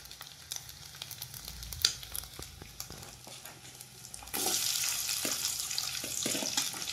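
Dried prawns fry in a pan, giving a steady hiss with small pops and crackles that swells louder and brighter partway through, alone without talk.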